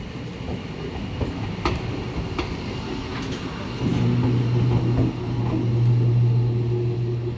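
A Cossimbazar–Azimganj MEMU passenger train rolls slowly across points from the loop line onto the main line, with wheels clacking over rail joints at a steady rhythm. Partway through, a loud low hum swells and holds.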